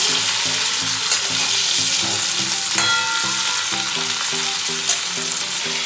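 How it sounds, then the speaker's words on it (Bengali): Pointed gourd (potol) frying in a pan, a continuous loud sizzle with rhythmic stirring scrapes and a few sharp clinks, no voices. "আমার এখানে পটল ভাজা অলমোস্ট কমপ্লিট"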